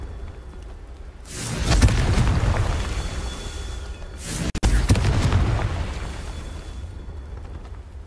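Two heavy blasts from the Confringo fire spell in Hogwarts Legacy, each a loud booming burst that rumbles and fades, spaced a few seconds apart with no talking.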